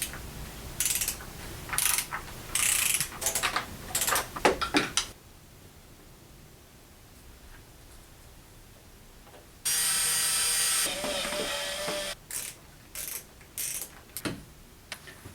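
A ratchet clicks in quick bursts while valve cover bolts are tightened on a BMW E34 engine, with a quiet pause, then a loud rushing hiss-like burst and a few scattered sharp clicks.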